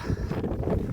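Low, steady wind buffeting close against the microphone, a continuous rumbling roar with no voices.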